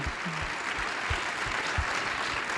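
Audience clapping during a talk about Israel at the UN, a continuous patter of applause filling the room, with a few low thumps underneath and no voices over it.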